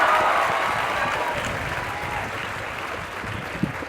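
Loud, sustained applause from a large hall full of students at a motivational event, dense clapping that fades slightly over a few seconds.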